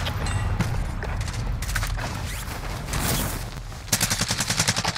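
Rapid gunfire in Call of Duty Warzone, with dense overlapping shots and explosions throughout, ending in a loud, steady burst of automatic fire.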